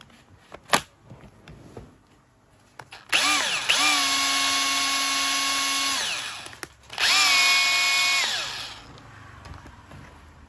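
Hilti TE 6-A36 cordless rotary hammer running on a new battery, two loud sustained drilling bursts of about three seconds and two seconds with a strong whining tone that winds up and down, after a few tool clicks.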